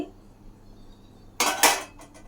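A spoon clinks and scrapes against a pot of tomato rasam in a home kitchen, two short bright metallic bursts after a quiet stretch, close and fairly faint overall.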